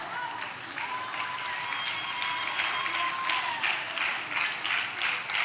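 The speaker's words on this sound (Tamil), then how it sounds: "நான் பேசி முடிச்சோடனே கை தட்டினீங்க" Audience applause at the Sooriya Magal 2025 award ceremony, moderately loud and continuous, swelling slightly toward the end, with a voice and some tonal sounds running faintly beneath the clapping.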